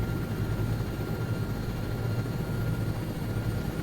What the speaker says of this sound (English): We can do a nice flyby over it.